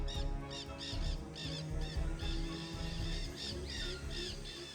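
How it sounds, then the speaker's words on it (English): A kea, New Zealand's mountain parrot, gives repeated shrill, raspy calls in quick bursts across the whole stretch, fairly close, over a constant outdoor background. "The kea, renowned for its mischievous behavior and exceptional intelligence, is one of New Zealand's most distinctive bird species."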